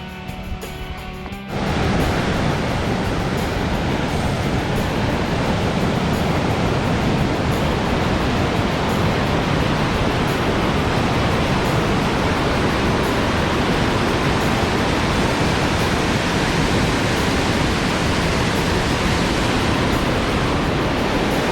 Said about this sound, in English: Here you can see another set of rapids that start as the river continues to flow